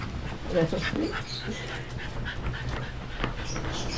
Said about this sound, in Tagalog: At tahol na rin si Nami.